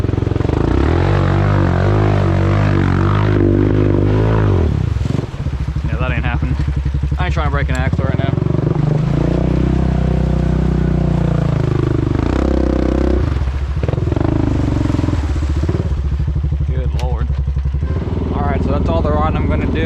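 A four-wheeler ATV engine runs loudly and close while riding on clay ground, its note rising and falling as it revs, with a person talking over it.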